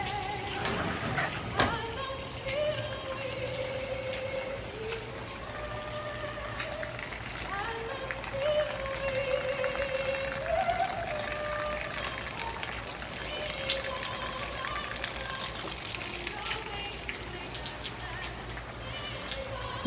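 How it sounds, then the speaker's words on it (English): Rain patters steadily outdoors as a soft, continuous hiss, while a person talks over it for much of the time. "the rain has begun."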